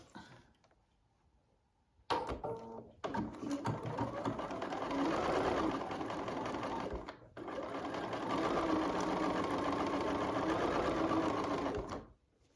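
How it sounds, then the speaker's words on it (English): Sewing machine stitching a row of quilt block pieces at a quarter-inch seam, running in a steady loud whir for long stretches with a short stop between runs, close and without talk. "now we'll sew that row together at 1/4 inch"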